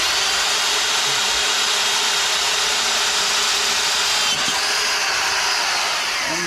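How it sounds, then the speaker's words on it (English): A power drill bores steadily through a transmission case from a 1974 Pontiac GTO, a continuous close, loud grinding whir that holds without a break throughout. "And you drill all the way through that."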